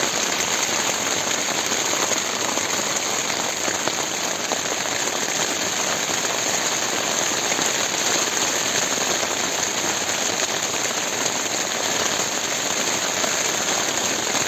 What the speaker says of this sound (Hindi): क्या किया जाए, बारिश को बाहर से देखा जाए या टेंट में ही बस साउंड्स एंजॉय किए जाए।